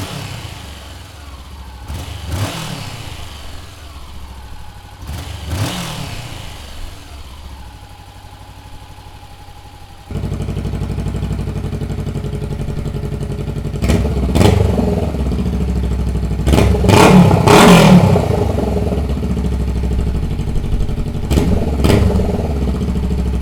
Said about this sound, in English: let's go ahead and see what the stock exhaust sounds like